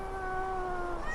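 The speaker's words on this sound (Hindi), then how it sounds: "इस बिल्ली की मनहूस आवाज से तो मेरी आंखों की नींद भाग गई है।" A cat cries in a courtyard in an animated horror story, one long, drawn-out, wavering yowl heard close and alone over faint low background noise.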